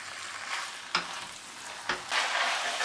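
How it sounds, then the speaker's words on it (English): Pasta is stirred with sauce and vegetables in a frying pan, a close scraping sizzle that swells with each turn and is punctuated by two brief knocks of the utensil. "And mix your pasta nicely with the sauce and veggies."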